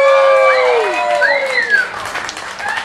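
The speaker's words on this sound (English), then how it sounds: "We saw that round of applause." A television game show studio audience applauds and cheers, with high sliding whoops and shouts riding over a steady wash of clapping and crowd noise.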